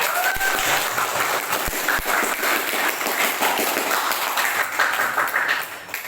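A classroom audience claps for group 3 during a teaching practice lesson: steady, dense applause sustained for about six seconds, then beginning to fade at the end.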